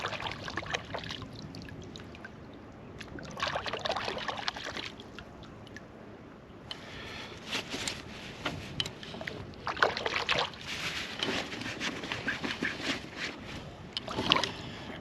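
Water sloshing and splashing in bursts as someone washes off outdoors while wild camping on Longa Island, close and moderately loud with irregular pours and swishes, no talk.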